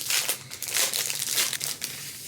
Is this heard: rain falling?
no